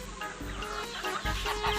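Chickens clucking and squawking continuously over a dense, noisy background, close by and fairly loud.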